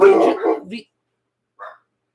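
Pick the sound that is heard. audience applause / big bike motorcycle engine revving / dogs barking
dogs barking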